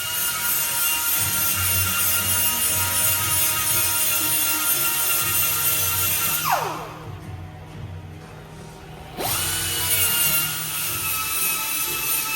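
Steady grinding on the edges of lowered rear coilover collars for a C8 Corvette, a loud continuous abrasive whine that cuts out for a few seconds midway and then resumes, with no talking.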